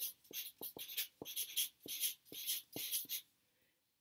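Pen or pencil scratching across paper while handwritten notes are taken, a run of short strokes and pauses close to the microphone, ending in a brief quiet stretch.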